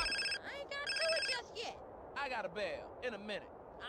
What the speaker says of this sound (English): the phone that CJ uses in GTA San Andreas to start missions